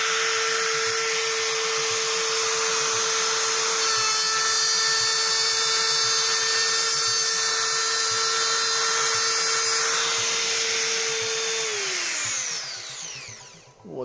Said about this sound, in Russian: Ну и запускаем фрезу. Сейчас будет наоборот и режем.